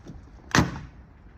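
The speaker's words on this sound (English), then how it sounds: "if you give it a poke, you can hear it creaking for a start" Faded fabric skin on a Rans S6 light aircraft gives a single short crackling creak when poked, fairly close and brief, with quiet surroundings before and after.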